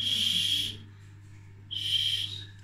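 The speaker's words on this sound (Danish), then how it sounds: "hvordan har man kunne lave en slikkepind, som der rent faktisk er en fløjte?" Two clear, bright blows on a candy lollipop whistle, each a steady high tone lasting under a second, separated by a short pause.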